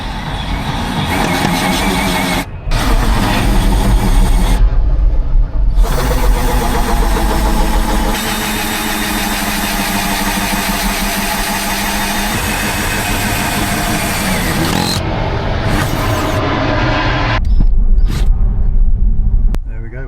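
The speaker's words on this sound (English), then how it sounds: "The thing I think I can do today is maybe drill a hole in the table." A power drill bores a hole through a table top inside a camper van, a loud, close motor whine that runs continuously with a few short stops and restarts, and faint voices underneath.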